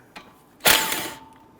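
A ratchet wrench clicks once while working a front brake caliper bolt on a Dodge Charger, a short mechanical burst followed by a faint metallic ring, close and alone.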